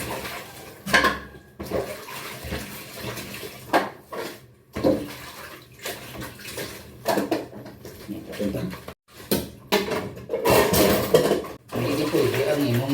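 Dishes are washed by hand under running tap water at a sink, with splashing water and clinking plates and pots coming in uneven bursts, and voices talking between them.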